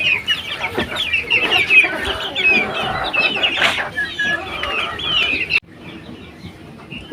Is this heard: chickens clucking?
yes